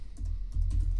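Keys on a computer keyboard being typed during graphic design work on a letterhead, a short run of soft clicks close to the microphone with no talking.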